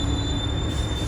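Bronx subway train of the number 1 line riding along with a steady loud rumble and a high, continuous wheel squeal, close and unbroken throughout.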